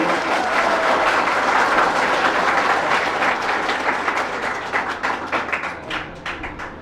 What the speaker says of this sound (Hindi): और तालियों में कोई कमी नहीं होनी चाहिए।